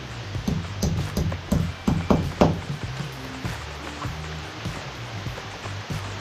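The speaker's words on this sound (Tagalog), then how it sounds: "Kaso, umuulan." Rain falling outdoors at a house construction site, a steady wash of drops with a few sharper knocks and taps near the start, no voices.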